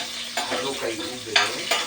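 Chicken tinola stirred in a hot sizzling pot, loud close scraping strokes of a utensil repeating over a continuous frying hiss.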